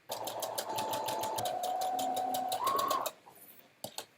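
A sewing machine stitches a fabric face mask, whirring in a rapid, steady run for about three seconds close up, then stopping, followed by a couple of short clicks.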